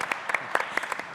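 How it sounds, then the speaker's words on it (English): Scattered, light applause from a small audience at a sponsorship panel on the Paris and Los Angeles Olympic Games: a handful of separate claps spread over a second, fairly quiet. "we can clap for him too"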